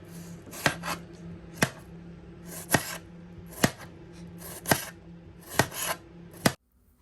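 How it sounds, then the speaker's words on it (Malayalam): Knife cutting an onion on a board, a series of sharp close chops in an uneven rhythm, about nine crisp strikes with soft slicing between them, no talking. "ഇനി നമുക്കൊരു സവാള കട്ട് ചെയ്തെടുക്കാം."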